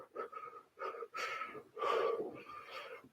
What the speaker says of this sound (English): Use a little chaotic breathing.